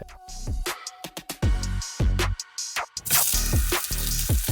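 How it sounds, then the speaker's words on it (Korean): Kimchi and pork stir-frying in a pot, sizzling and scraping in bursts with clattering stirring hits, loud and close, with a hissing surge near the end. "김치와 고기를 볶고 적당한 육수를 넣어줍니다."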